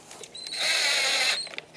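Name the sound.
power driver putting screws into plastic grille trim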